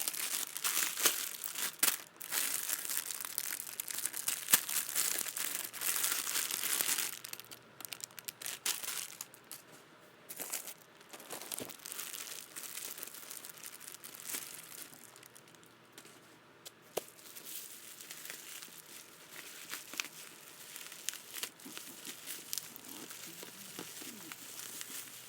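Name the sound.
taking items out of plastic packaging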